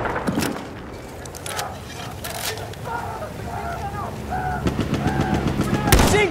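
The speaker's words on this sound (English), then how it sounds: "Machine gun right there!" Machine gun fire in Battlefield 1 on the Amiens map rattles in short bursts and scattered shots amid battle noise, with shouted voices in between.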